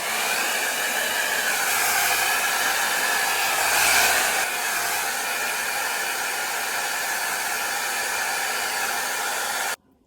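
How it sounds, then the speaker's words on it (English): A blow dryer drying wig lace glue blows a loud, steady whoosh for about ten seconds, then cuts off abruptly. "we're just gonna do the blow dryer"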